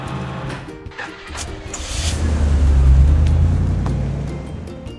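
Cartoonish toy truck engine in a kids' construction game about moving an old house with a container truck, revving up and swelling louder mid-clip before easing off over game music and effects.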